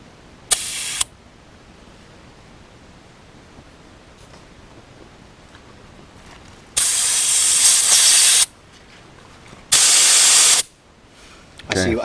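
Air hissing in loud broadband bursts from a tire valve stem as an E-Z Tire Deflator backs it out, one short burst early then two long sustained blasts, with quiet gaps between.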